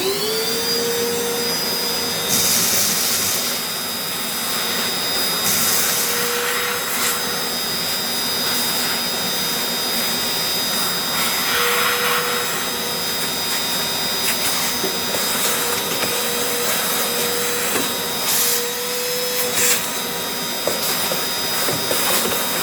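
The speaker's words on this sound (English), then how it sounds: "I'm going to go ahead and take my shop vac now and just vacuum this all out" A shop vac roars steadily and loudly, cleaning out an Anfim Scody II coffee grinder, with the pitch shifting briefly as the nozzle sucks up loose grounds and debris.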